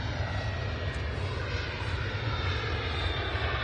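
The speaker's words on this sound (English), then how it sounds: "Ryanair's off to Turin." Ryanair jet airliner taking off from Manchester Airport, a steady broadband engine roar held at constant loudness throughout, fairly distant with no voices over it.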